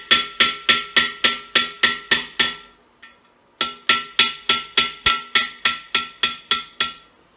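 Repeated metal-on-metal hammer blows against a stuck engine core plug, struck in two steady runs of about eight and fourteen sharp, ringing hits with a short pause between, loud and close with no talking.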